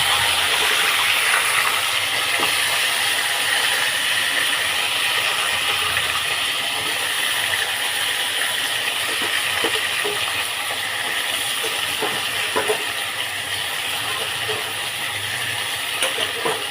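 Cauliflower and potato pieces sizzle in hot oil in a Bengali home kitchen while boal fish is being cooked. A loud, steady, crackling hiss runs unbroken throughout, with no talking.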